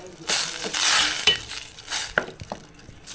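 Mung beans poured into a hot cooking pot, a burst of sizzling and rattling as they land, then scattered scraping stirs and clinks against the pot, close by with no talk.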